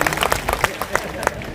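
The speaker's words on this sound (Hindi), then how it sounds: "जोर से ताली बजाऊंगा।" A crowd at an election rally claps in a brief, scattered burst of applause, with sharp individual claps standing out.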